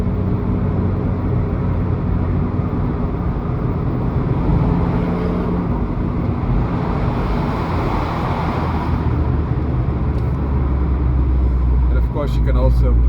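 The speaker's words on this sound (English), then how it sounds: "Downshifting." An Abarth 595C Turismo with a 1.4 turbo engine drones steadily from inside the cabin as it downshifts, the engine note loud and continuous throughout.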